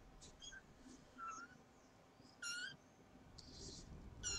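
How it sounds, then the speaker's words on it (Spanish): Two small kittens about a month old give faint, thin, high meows in short separate bursts, close by in a quiet room. "y tengo dos gatitos pequeños"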